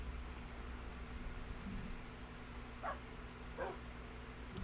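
Wolves from the Minecraft video game barking in a few short, clipped yips under a steady hum of background noise, fairly faint and spaced apart.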